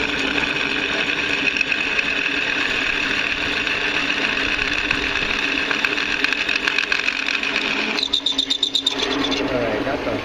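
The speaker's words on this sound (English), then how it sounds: "And now we're drilling it out in 1/2-inch diameter." A drill press bores a 1/2-inch hole through a homemade steel camshaft sprocket spanner wrench for Jeep/Dodge 3.7 and 4.7 engines, giving a steady, close motor whine that shifts pitch and grows rougher near the end.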